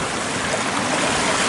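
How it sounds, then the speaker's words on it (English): Salmon River water rushing through a gold sluice fitted with new mats, a dense, constant, loud hiss of flowing water with no breaks and no voices. "the first shots in the Salmon River running down the sluice"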